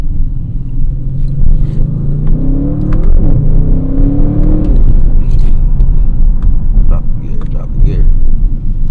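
A 2022 Audi RS7 engine rumbles loudly and climbs in pitch as it drops a gear and accelerates, with a steady road roar throughout and someone talking over it.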